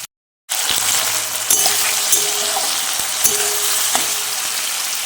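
Tomatoes with a pinch of salt fry loudly in hot oil for restaurant-style egg tadka, a close, dense sizzle starting after a brief silence, with occasional spoon scrapes and taps.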